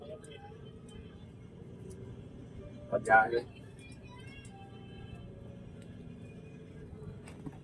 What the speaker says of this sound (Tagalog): Traffic, traffic.